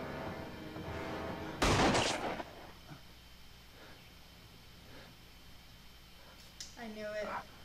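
A single sharp gunshot cracks loudly from a scene in the TV show Lost, a sudden blast that fades quickly into quiet, with talking heard before and after it.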